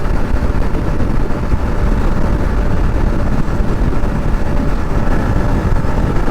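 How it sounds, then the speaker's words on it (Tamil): A Yamaha MT-15 motorcycle engine runs at speed around 60 in a steady, loud, continuous drone mixed with road and wind rush, with no break or change across the stretch. "இது பாருங்க 60லேயே வந்து இப்போ இன்ஜின் சவுண்டு என்ன மாதிரி கேட்குது"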